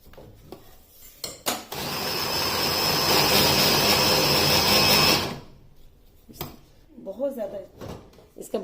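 Knife chopping radish pods (mongre) lightly on a board for paratha filling, a loud sustained scraping-chopping burst of a few seconds between quieter taps and handling noises.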